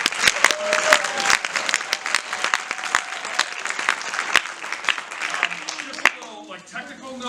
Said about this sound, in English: So a round of applause for all the